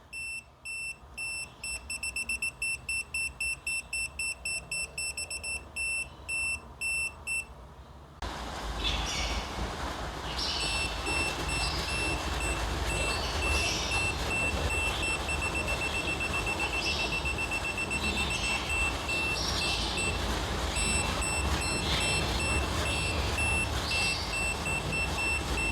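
Continuity testing on an Aneng 683 smart multimeter: a run of short, evenly spaced high beeps, then after a brief pause a longer, steadier tone that sounds on and off above a constant background hiss, with no speech.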